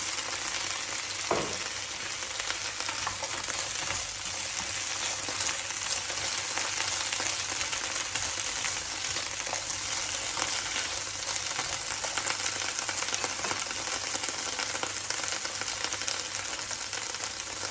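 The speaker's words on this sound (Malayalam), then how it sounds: "വെളിച്ചെണ്ണ ഒന്ന് ചൂടായതിനു ശേഷം അതിലോട്ട് അരിഞ്ഞു വെച്ച ഈ വെണ്ടയ്ക്ക ഒന്ന് നമുക്ക് വാട്ടിയെടുക്കാം." Chopped okra sautés in hot coconut oil with a loud, dense, unbroken sizzle and an early stirring knock, close up and with no talk.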